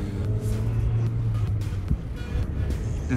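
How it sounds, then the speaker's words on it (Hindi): A car engine drones steadily on a high mountain road near snow, with a low hum that continues throughout and a few brief bumps, no talking. "और वो गाड़ी भी आ चुकी है।"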